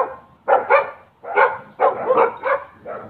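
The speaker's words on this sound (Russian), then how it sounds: "Собаки недовольны, что щенки гуляют, боятся, что они потеряются." Adult dogs bark in snowy outdoor conditions where puppies are out walking, giving about six close, sharp barks in an uneven rhythm, some of them clustered in quick pairs.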